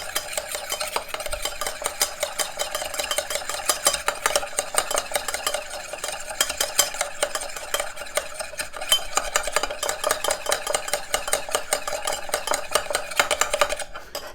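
A white wine vinegar dressing for Sicilian tuna carpaccio is whisked briskly in a bowl, a fast, steady scraping and clinking rhythm close up, running almost without pause.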